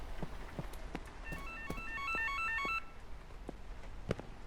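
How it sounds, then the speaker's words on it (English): A telephone rings with a brief melodic electronic trill in the horror game Holstin, heard against a dull background with soft thudding footsteps before and after the ring. "I hear a phone."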